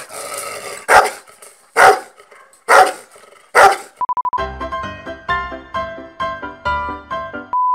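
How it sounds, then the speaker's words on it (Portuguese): Five loud, evenly spaced dog barks ring out close by on a Brazilian highway, the BR-116, followed by a beeping electronic tone sequence. "O cachorro latindo."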